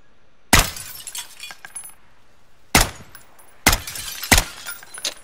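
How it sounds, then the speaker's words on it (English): Glass shatters in the Call of Duty Warzone video game, three sharp crashing bursts of breaking glass with tinkling debris after each, separated by short quiet gaps. "it took 3 shots to break the glass"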